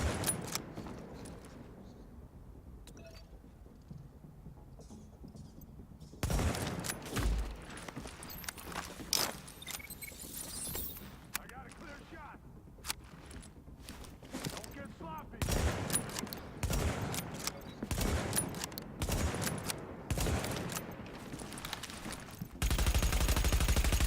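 Gunfire from a DMR rifle in The Division, a solo high-value-target mission: quiet stretches broken by loud clustered shots and bursts, with footsteps and gear jangling between.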